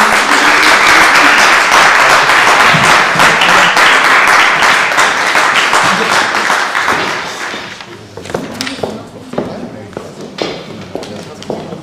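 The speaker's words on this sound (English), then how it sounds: "One more applause" A conference audience claps loudly and continuously as one, with a few thuds and footsteps mixed in. The applause fades after about eight seconds into scattered taps and movement.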